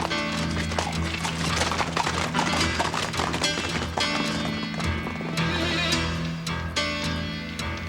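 A horse gallops away in a Western drama, rapid rhythmic hoofbeats thudding continuously over a dense backdrop of music, with a brief whinny.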